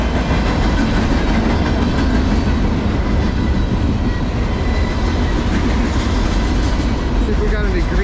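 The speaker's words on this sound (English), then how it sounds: "I call this the junk train." A freight train of garbage containers rumbles past continuously in New Jersey, loud and close, with steady rolling wheel noise and clatter throughout.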